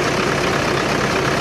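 A farm vehicle's engine idles steadily with the motor left running on a road near a viaduct, a continuous broadband rumble at constant level through the whole short stretch, no voices over it.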